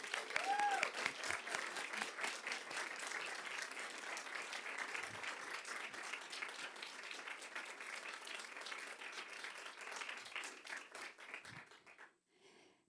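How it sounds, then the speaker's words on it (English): An audience at a school board work session applauds a second-grade teacher, with steady, dense clapping that lasts about twelve seconds, holds fairly even and thins out at the end. "Can we give her a round of applause,"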